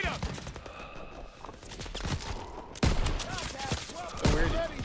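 Dense gunfire rattles through a Call of Duty WW2 battle, with overlapping rifle and machine-gun shots and sharp louder cracks, while soldiers shout over the fighting.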